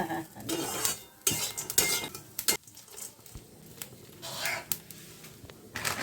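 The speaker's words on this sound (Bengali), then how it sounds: "আর একটু নাড়ছি নেড়ে নিই ভেজে নিই" Flattened rice being stirred and fried in a pan, with irregular metallic scrapes and clinks of a spoon against the pan, fairly close and loud, with no talking.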